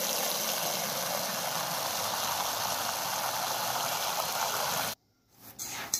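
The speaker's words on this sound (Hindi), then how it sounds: "तो हमने पानी की मोटर भी स्टार्ट कर दी ताकि पानी हम बाल्टी में डाल सकें" Electric water pump motor running as water pours into a bucket, a dense, steady hissing rush that holds evenly for about five seconds, then cuts off abruptly, leaving near silence and a few small knocks.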